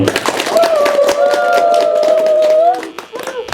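A church congregation claps in a steady rhythm, loud and close, while a sustained voice rings out over the clapping.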